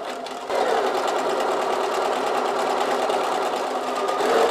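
A sewing machine runs steadily at close range, stitching a 1 cm seam on a fabric tablet case, a continuous whirring hum after a brief quieter start.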